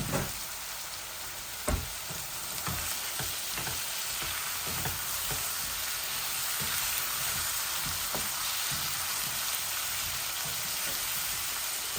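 Sweet potatoes fry in a pan with coriander, cumin, chilli, spices and salt, giving a dense, even hiss like rain. A few soft stirring knocks sound near the start, and the sound carries on steadily without talk.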